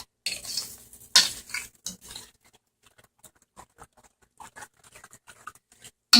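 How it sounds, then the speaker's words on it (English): A spoon scrapes and clinks against a pot while fried corn is stirred with salt added, a few sharp bursts early, then quieter scattered scraping and clicks. "And we're going to stir"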